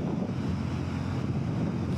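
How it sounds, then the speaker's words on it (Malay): Steady, loud wind roar buffets the microphone on a Suzuki SV650 naked motorcycle riding along the EKVE expressway. The rush is continuous, with no talking. "Motor ni adalah motor naked. So angin agak kuat juga."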